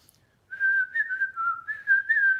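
A person whistles a short lilting tune, a clear, close melody of several wavering notes rising and falling for about two seconds after a brief silence.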